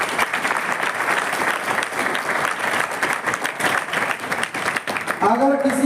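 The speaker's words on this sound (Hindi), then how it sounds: "जोरदार तालियां मैडम के लिए।" Loud, sustained applause from a large audience at a motivational talk, steady dense clapping throughout before a voice briefly breaks in near the end.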